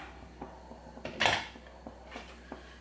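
A metal pot lid clanks open on a simmering egg curry, one sharp close clatter in the middle amid a few softer knocks and quiet kitchen handling, with no speech.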